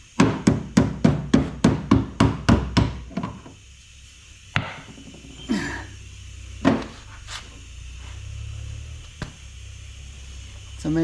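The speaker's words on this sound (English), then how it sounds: "Sometimes a body man's hammer is one of these." A rapid series of about a dozen sharp body-hammer taps on a Mustang GT car panel rings out close by, followed by a few scattered single knocks and some talking.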